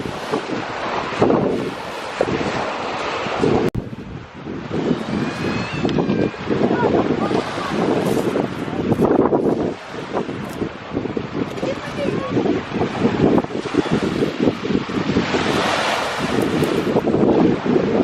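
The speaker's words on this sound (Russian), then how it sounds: "Спустились к морю," Sea waves and wind at the seashore, steady rushing surf mixed with heavy wind buffeting on the microphone throughout, with a person speaking over it.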